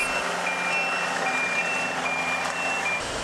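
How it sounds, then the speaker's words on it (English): Steady high-pitched reversing beeps from heavy machinery at a gravel worksite in Bowling Green repeat over a rumbling truck engine, loud and close. "The beeping of machines."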